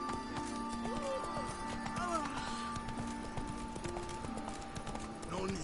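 Hooves of the horse Roach clip-clop at a quick pace in Witcher 3, with a whinny and game music mixed in beneath ongoing character voices.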